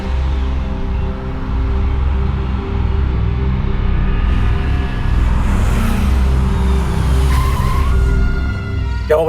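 A hired taxi car skids loudly to a stop on the road, with a sustained rumbling engine and tire noise that ends in a brief squeal.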